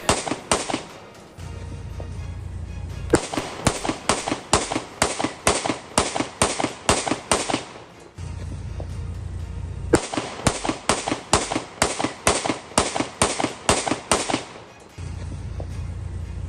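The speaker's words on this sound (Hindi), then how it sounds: "और देखिए किस तरह से ताबड़तोड़ फायरिंग की जा रही है" Rapid bursts of gunfire outside a house gate in Canada, loud sharp cracks in dense volleys separated by short pauses, repeating over several seconds with no talk.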